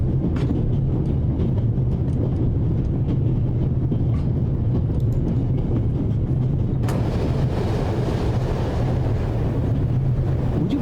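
Steady rumbling of a train riding on a Swiss railroad in The Raven, a continuous low rolling drone with airy wind noise through an open window, louder rush after a shift midway.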